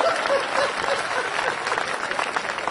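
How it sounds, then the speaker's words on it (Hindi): Steady applause from a large audience at a live Hindi comedy show fills the whole stretch, dense and continuous at an even level, with no voice above it. "इतनी सी तालियों से तो मेरा ही सम्मान नहीं हो रहा"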